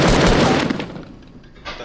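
Rapid automatic gunfire in a video game firefight, loud and dense at first, then thinning into scattered shots before a final short burst, with no talking over it.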